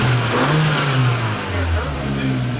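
A 2013 Fiat 500 Abarth's small turbocharged engine revs up and settles, a close, loud engine note that rises and falls over a few seconds with rough crackling, and a voice is briefly heard over it.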